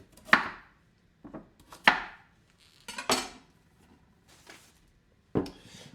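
A knife chops carrots and cucumber on a kitchen board in a few separate sharp thuds, irregularly spaced with quiet gaps between, close and fairly loud.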